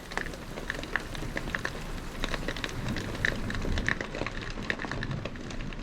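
Steady rain drums on the steel roof of a narrowboat during a thunderstorm, a dense close patter heard from inside the cabin, with sharper individual drop hits standing out against the continuous wash.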